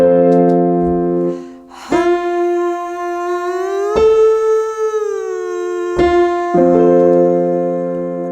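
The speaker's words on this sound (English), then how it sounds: "Let's start with humming exercise on a gentle vocal slide." A sustained hummed tone slides gently up and back down in pitch, with short pauses between slides, steady and close.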